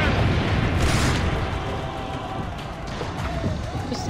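Cannon fire in Assassin's Creed Brotherhood, a heavy booming blast with sustained rumbling and battle noise, loud and continuous with a second surge near the end.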